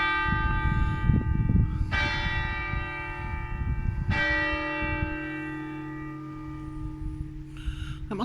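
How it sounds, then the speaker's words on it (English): A clock tower bell strikes slow, resonant single tolls roughly two seconds apart, each leaving a long ringing hum that lingers between strikes, with no voices. "As I was saying before I was rudely interrupted by the bell"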